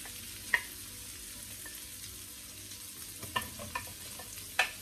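Onions hit a frying pan over low heat and sizzle softly and steadily, with a few sharp utensil taps and clacks breaking through near the start and toward the end.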